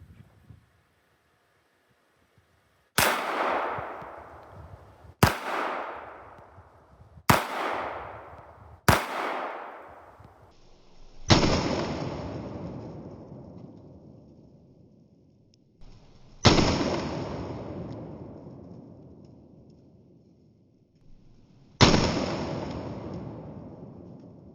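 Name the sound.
Walther WMP .22 WMR pistol shooting at eggs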